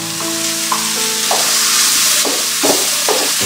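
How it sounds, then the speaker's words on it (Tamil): Ground green chutney is poured into a hot tempering with a pinch of asafoetida, bursting into a loud, close, continuous sizzle with a few spluttering pops. "இப்போ நம்ம அரைச்சி வச்சிருந்த அந்த சட்னியை ஊற்றிடுறோம்."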